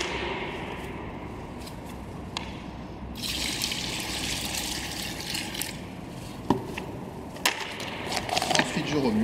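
Water trickles and splashes as it is poured into orange paint in a bucket, a continuous close liquid pour with a few small knocks and drips.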